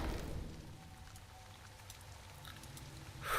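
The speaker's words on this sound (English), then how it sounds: "Oh, it's raining." Rain falls in the tower-stacking video game Pit of Babel, a soft steady hiss of raindrops at low volume that holds throughout and swells slightly at the end.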